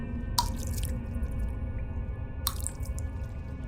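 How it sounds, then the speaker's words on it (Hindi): Blood dripping in a horror audio story set in a cellar: two separate drips land about two seconds apart, close and distinct, over a steady low rumbling background. "शरीर से टपकते खून की आवाज भी"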